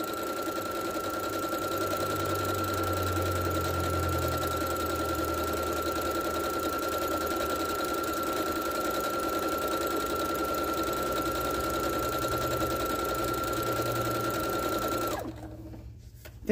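A sewing machine runs decorative stitches on fabric for about fifteen seconds, a close and continuous whir with a steady hum. It stops abruptly near the end.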